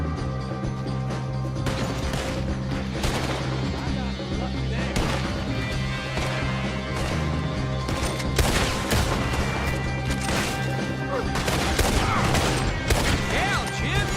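Rapid gunfire bursts and volleys from a Red Dead Redemption 2 shootout crackle over a dense game soundtrack, with someone talking throughout and the shots clustering in loud flurries.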